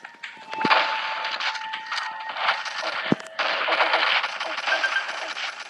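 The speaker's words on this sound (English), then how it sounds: "I keep shooting him." Rapid automatic gunfire from the Pixel Gun 3D mobile shooter game, loud and continuous in bursts, with a sharp single shot near the middle.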